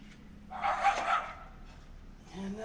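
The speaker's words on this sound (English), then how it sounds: "Just hope she's not barking about a skunk" A dog barks in a short burst of several loud yaps somewhere near a garage where a 2018 Harley-Davidson Sport Glide is being fitted with a Memphis Shades fairing, with a low background hum around it.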